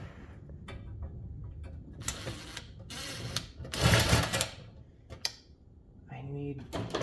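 Screwdriver turning a nut on a vintage McGraw-Edison Eskimo box fan blade, with scattered metallic clicks and scraping taps in irregular bursts, close and fairly clear.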